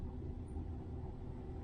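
Steady low road rumble inside the cabin of a Tesla Model S Plaid with air suspension, heard while driving, a constant muted drone with no speech.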